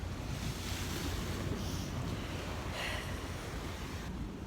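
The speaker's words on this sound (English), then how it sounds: "I really missed the ocean." Ocean surf washes ashore at a beach below small cliffs, a steady roar of breaking waves with gusts of wind buffeting the microphone throughout, no voices.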